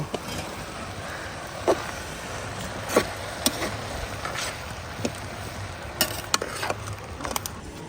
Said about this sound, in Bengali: এটা হলো ভাজি হচ্ছে, পাতাকপি, সিম, আলু, পেঁয়াজের পাতা সব দিয়ে ভাজি।